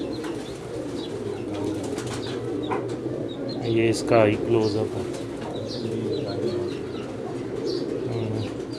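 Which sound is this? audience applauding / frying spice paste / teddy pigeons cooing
teddy pigeons cooing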